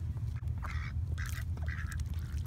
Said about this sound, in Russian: Белые домашние утки.